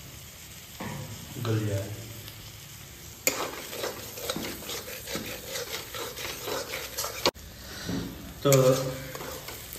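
Tomato and mustard masala for mangur fish sizzles in a pan while a spoon stirs and scrapes in uneven strokes, with bursts of louder frying. Someone talks over the cooking.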